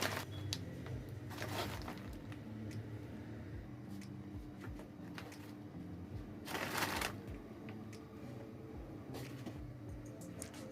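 Plastic bag being crinkled and pressed over a pot of Nigerian party jollof rice, with repeated rustling and crackling and a few louder bursts of handling, close and fairly quiet.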